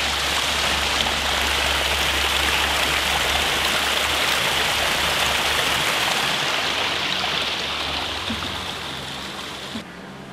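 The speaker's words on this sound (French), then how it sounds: "Il y a un truc d'eau. On entend quelque chose là." Water flows in a steady, loud rush, like a stream or small cascade, filling the whole stretch without pause before easing slightly near the end.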